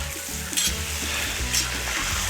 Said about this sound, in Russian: Красиво зашкварчало.